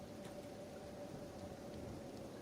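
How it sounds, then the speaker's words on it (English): Acid rain pours steadily in a video game, a dense continuous hiss of falling drops with a faint low rumble underneath. "This one is in critical condition because of the acid rain."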